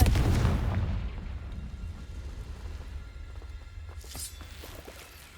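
A Confringo fire spell blasts in Hogwarts Legacy with a loud burst at the start, decaying into rumbling debris and crackle, followed by a smaller flare of impact later on, with no talking.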